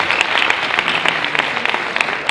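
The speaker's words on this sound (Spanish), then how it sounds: "Y a mí me gustaría un aplauso para ella" Applause for a woman at a project presentation gala, a dense sustained clapping from the audience that stays loud and even for the whole stretch, with no voices over it.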